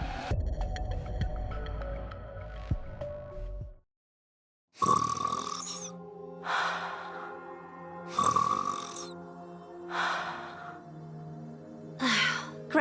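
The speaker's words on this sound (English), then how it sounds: "Gretel and I think Ave's snoring is goddess level" A character in the video game NIKKE snores in repeated loud, throaty pulls roughly every two seconds, close and alone after a brief burst of background music and a short silence.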